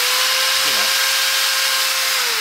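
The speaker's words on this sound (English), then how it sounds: "it's a 3/8 drill from Ryobi" A corded Ryobi 3/8-inch power drill runs close by with a steady high whine, briefly dipping in pitch early on before holding constant.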